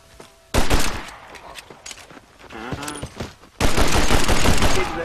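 Loud gunfire in the Western video game Red Dead Redemption, heavy bursts of close shots that open and close the moment, with quieter game sounds and a voice in between.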